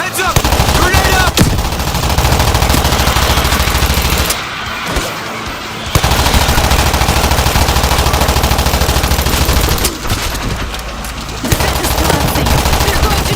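Dense, continuous automatic gunfire and bursts from a World War Z co-op zombie shooter battle, loud and sustained with brief lulls around mid-clip, with no talking.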